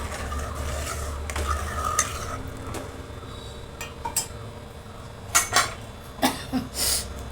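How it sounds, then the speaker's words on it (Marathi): Spring onion greens are stirred with salt in a pot, giving scraping spoon-on-metal strokes and clinks at an uneven rhythm, with several sharper clatters near the end, close and moderately loud over a low background hum. "चवीप्रमाणे मीठ हलवून घेऊया"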